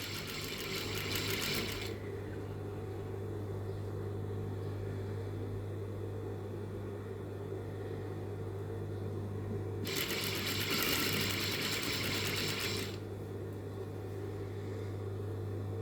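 A sewing machine stitches the armhole of a crop top in two steady bursts, one at the start and a longer one later, over a constant low motor hum with no talking.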